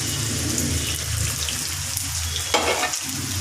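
Onion, cumin, chili powder and green chilies sizzling in oil left from frying fish, a steady loud crackle with brief stirring scrapes, no talk.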